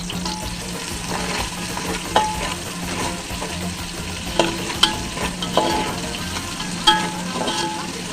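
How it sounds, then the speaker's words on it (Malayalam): Onions frying in hot oil in a pan for biryani, a loud continuous sizzle and crackle with scattered sharp stirring scrapes and clinks, no voices. "ആദ്യം പൊരിച്ചെടുക്കട്ടെ ഉള്ളി പൊരിച്ചതാണ് ഉള്ളി"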